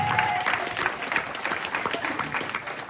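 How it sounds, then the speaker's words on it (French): Wedding guests clap for the newly married couple in a sustained round of applause from a crowd in a reception hall, with a brief tone and faint voices underneath. "Et là, on peut les applaudir très fort."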